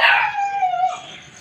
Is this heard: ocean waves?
no